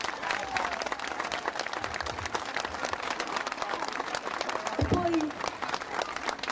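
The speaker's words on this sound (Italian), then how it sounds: "fate un grandissimo applauso!" A crowd in the Cerignola town square breaks into sustained applause, a dense wash of many hands clapping at once, steady and moderately loud from start to finish, with a brief voice cutting through near the end.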